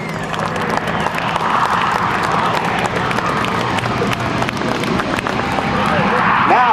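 Crowd at an air show applauding the Red Eagle team as it passes, a rough mix of clapping and crowd noise that swells toward the end, with voices mixed in.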